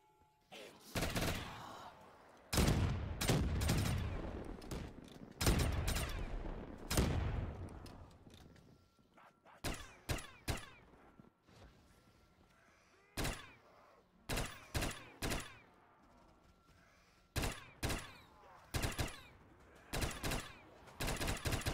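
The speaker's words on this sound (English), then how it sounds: "this nail gun is crazy. It's explosive rounds now." A nail gun firing explosive rounds in Black Ops 3 Zombies, bursts of rapid shots and sharp blasts that come in clusters with short pauses between them, loud and near, repeated many times.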